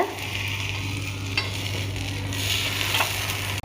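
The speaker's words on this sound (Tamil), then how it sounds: "கார பணியாரம் ஃபுல்லாக ஊற்றிட்டோங்க. வேகவும் நம்ம திருப்பி விடலாங்க." Kara paniyaram batter fries in a pan with a steady, loud, close sizzle and crackle that runs unbroken throughout and cuts off abruptly at the end.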